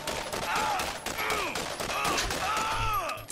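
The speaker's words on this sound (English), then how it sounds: "That's the one, another machine gun that shoots really quickly." Rapid machine gun fire in Borderlands, a fast, continuous stream of shots packed under dense game effects and whirring sounds, loud and sustained throughout with no clear gaps.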